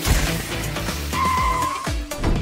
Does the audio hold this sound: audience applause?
no